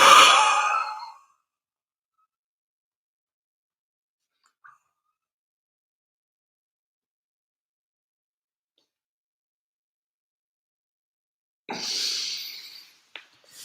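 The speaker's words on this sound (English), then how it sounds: "Exhale." A single soft exhale during a breathing exercise, brief and close, followed by a long silence and then another short breath with a faint click.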